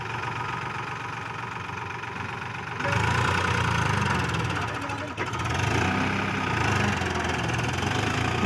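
A Euro 439 and a Farmtrac 60 tractor strain against each other in a trolley tug of war, their diesel engines running steadily, then revving louder and heavier partway through, with a brief dip before the roar resumes.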